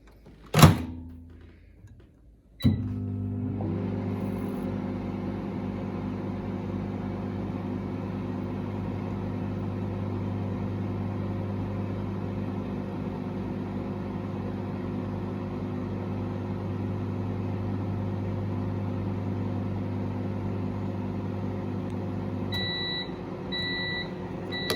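A microwave oven heating a marshmallow: a door thunk and start-up, then a long steady electric hum close by, ending in a couple of beeps.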